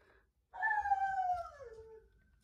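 A dog lets out a single drawn-out, falling whimpering howl lasting about a second and a half, close and clear against a quiet room, after a faint brief whine.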